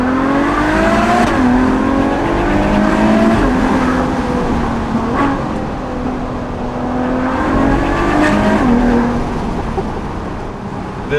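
A Ferrari FF with a naturally aspirated V12 pulls hard on the Susten Pass mountain road, its loud engine rising and falling through several revving surges and gear changes, close and continuous with no talking.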